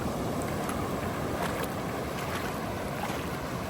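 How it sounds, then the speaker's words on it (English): Small waves wash steadily along a beach at Sabang, Palawan in the Philippines, a constant broadband rush of surf and wind with no distinct breaks. "Got a little wave action on the side."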